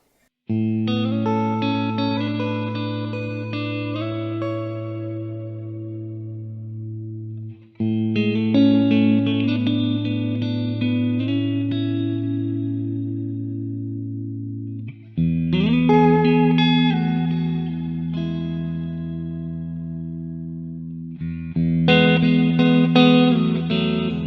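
Electric guitar chords ring out with lush reverb and chorus-like shimmer, played in four long phrases with brief breaks between them, no voices.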